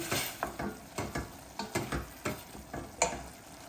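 Onion and garlic frying in a pan for a vegetable keema while a curry is stirred. Steady sizzle runs underneath about a dozen rhythmic scraping strokes, close and fairly loud, with no voices.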